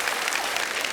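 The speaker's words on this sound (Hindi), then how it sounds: "ओह, क्या बात, जोरदार ताली हो जाए यार" A studio audience on a Hindi entertainment show bursts into dense, loud, continuous clapping that fills the whole short moment with no voices over it.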